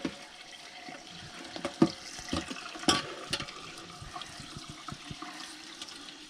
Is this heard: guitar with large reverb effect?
no